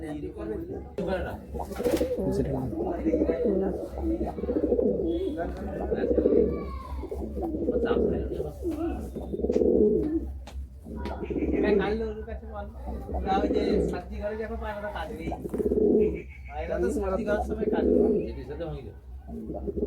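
Pigeons coo in a loft in repeated soft, rolling phrases close by, under a steady low hum, while someone talks over them.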